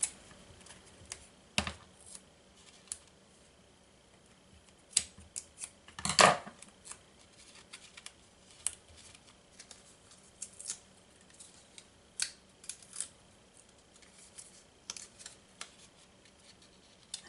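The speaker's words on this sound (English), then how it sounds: "And I cut a circle to go behind this little pumpkin here." Scissors snip around a paper circle for a craft pumpkin banner, a scattered series of faint, sharp clicks and cuts, one louder snip standing out, in a quiet room with no talk.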